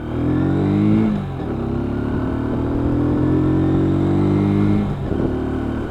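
A WK Scrambler 125cc motorcycle pulls away up a hill, its engine holding a steady, loud drone with rising harmonics and a brief dip as it changes gear partway through.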